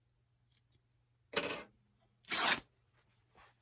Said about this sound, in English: So we're going to measure here 5 inches, make a snip, and rip that off.